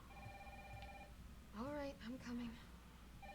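An old telephone rings persistently inside a Raccoon City scene of the Resident Evil 3 Remake video game, its bell tone cutting through steady game ambience while someone talks over it.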